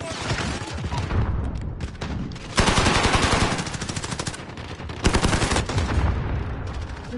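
Rapid, repeated gunshots in Call of Duty on PS5 crackle in loud close bursts, pausing briefly between volleys, with heavy booming impacts underneath.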